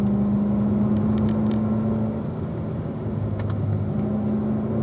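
Race car on the Ron Fellows track, with a steady, loud in-cabin engine drone and sustained engine tones that ease off midway, then shift as the throttle comes back on through a corner.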